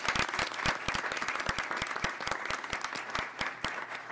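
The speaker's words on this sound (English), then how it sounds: "can we give Principal Lee a huge round of applause for all of your work?" An indoor audience at a school board meeting gives a school principal a steady round of applause, with dense, even clapping close by throughout.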